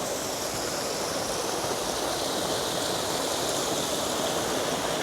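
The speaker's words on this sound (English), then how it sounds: "stream of water going by" A small stream of water flows nearby in Cali, Colombia, making a continuous rushing, splashing wash of sound that stays steady and fairly loud throughout.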